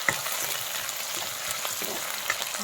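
Onions with ginger-garlic paste sizzle in a hot pan while being stirred, a soft continuous frying crackle with occasional scrapes, fairly quiet and without talk.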